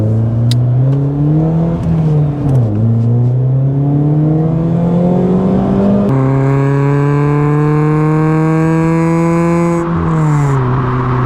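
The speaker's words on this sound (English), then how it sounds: "It's basically taken the edge off of that exhaust note." A car's exhaust drones loudly and steadily as the engine climbs through the revs, dipping briefly at gear changes before rising again, heard from inside the cabin.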